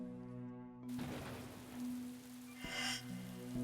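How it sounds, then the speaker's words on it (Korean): Steady rain falls in a quiet historical setting, a soft broadband patter with a low steady hum beneath, the drops thickening briefly at moments but staying even throughout, no voices present. "그때는요 쫙 추적 비가 내리고 있었습니다"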